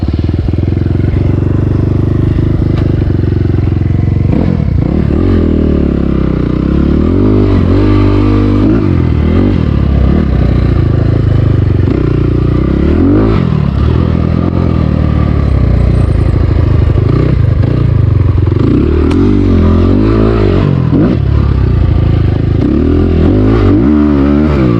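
An SSR 300 motorcycle engine drones loud and close throughout, rising and falling in pitch as the rider accelerates and shifts through gears, with brief clattering mixed in.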